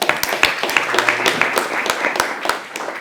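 Applause from a conference audience, a crowd clapping steadily for about three seconds with a brief voice underneath.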